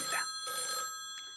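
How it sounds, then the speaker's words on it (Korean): A telephone rings in a short burst of bright, repeated electronic tones, close and clear with no one talking over it. "그리고 다음 날 리웨한테 한 통의 전화가 옵니다."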